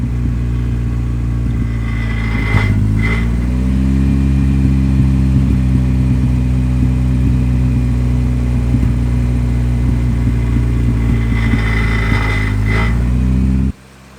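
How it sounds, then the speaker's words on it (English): Honda Integra engine runs in a steady, loud drone with a couple of brief rev swells, a faint rattle of the exhaust knocking against the sway bar mixed in, close by before cutting off abruptly. "my exhaust is rattling off my sway bar"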